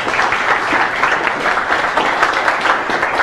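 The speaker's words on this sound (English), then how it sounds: "Let's give a round of applause for Michelle Lerman." An audience at a live estate planning seminar in a hotel applauds the presenter, a brief, loud, dense wash of clapping that stays even throughout.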